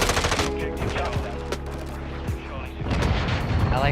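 A cargo-plane gunship fires its cannons in Call of Duty: Modern Warfare II, a loud rapid burst of heavy, booming gunfire that continues throughout with mechanical drone beneath.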